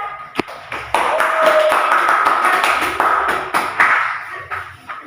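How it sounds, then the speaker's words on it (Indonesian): Classroom applause for a student discussion group, a dense wash of hand claps sustained across several seconds with a few sharp individual taps and some faint voices mixed in. "Kita tepuk tangan buat kelompok dua."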